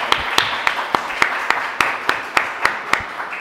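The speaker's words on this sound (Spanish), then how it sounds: "Bueno, aplaudir." An audience claps at the close of a seminar on mysticism and peace, a sparse, evenly spaced series of sharp claps, close and fairly loud, lasting a few seconds.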